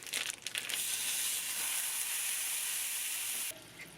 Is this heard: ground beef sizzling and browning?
yes